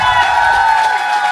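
A KVN comedy show audience cheers and applauds in a dense, steady wash of crowd noise with a bright, sustained tone riding over it, loud and close throughout the short burst.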